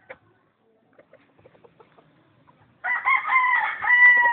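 After a few faint scattered clicks, a rooster lets out one clear, fairly close crow that rises and then holds a drawn-out, wavering tone.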